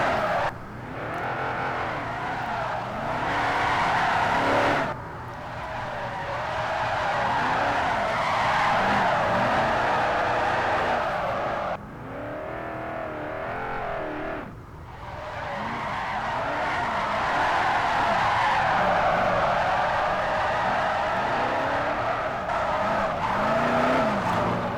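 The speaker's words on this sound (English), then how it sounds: "Tire noises, screeching, engine just growling, screaming" A car drifting in Forza Motorsport 4, with RWD and AWD cars on the Fujimi track: tires screech continuously under a loud, growling, revving engine that climbs and drops, with brief dips between slides.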